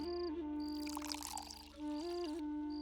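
Water poured into a drink, a short steady trickling pour over a soft sustained musical backdrop, with no talking.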